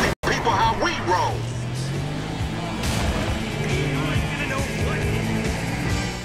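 A car speeds through city streets in GTA V, its engine whining and sweeping in pitch as it accelerates, with close, loud road noise and a voice talking over it.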